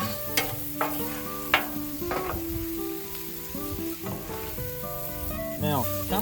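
Vegetables being stirred on a Blackstone griddle, with a steady sizzle and sharp spatula scrapes and clacks at the start and again near the end, close and clear with no talking.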